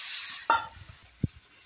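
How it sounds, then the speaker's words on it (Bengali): Fried soybeans go into a pan with yogurt, setting off a bright, hissing sizzle that fades over about a second, followed by a brief scrape and a dull knock of a spoon against the pan. "ভাজা সয়াবিনগুলো এর মধ্যে দিয়ে দিলাম, দিয়ে এখন কষাবো।"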